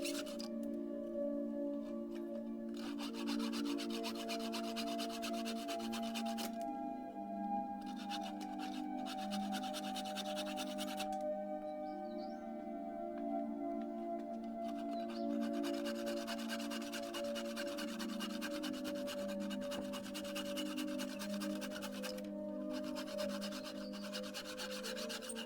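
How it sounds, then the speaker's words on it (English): Steady rasping strokes of a sharp tenon saw cutting wooden dowels flush run throughout, a close back-and-forth scraping with a few brief pauses between bursts of cutting. "Just using a really sharp tenon saw to cut through those dowels nice and flush."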